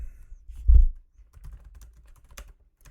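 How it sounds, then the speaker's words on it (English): Someone types a search term on a computer keyboard: a soft thump, then a scattered run of light, close key clicks with short pauses between them and no voices. "you can go to Google Scholar and just type in bisphenol A"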